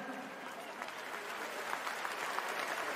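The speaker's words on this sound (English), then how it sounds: "So please, a big round of applause to Sam Fotu" Audience applause at a basketball jersey retirement ceremony for the Perth Wildcats, a fairly quiet, steady patter of clapping from a crowd with murmuring voices mixed in.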